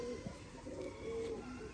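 Pigeons coo faintly in low, soft murmurs against a steady background hum, distant and quiet, with no speech.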